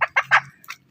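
A backyard fowl gives a quick run of three throaty gobbling clucks and then a shorter fourth call, loud and close, the whole burst lasting under a second.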